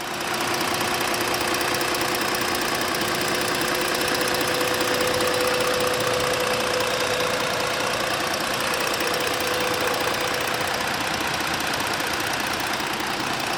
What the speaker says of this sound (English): Let me be quiet for a second so you can hear the engine.